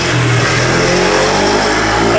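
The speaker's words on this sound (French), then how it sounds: "Attendez, je laisse la moto passer." Motor vehicle engine passing close by on a busy Harajuku street in Tokyo, a steady loud rev that swells and holds over dense traffic noise, with no talk.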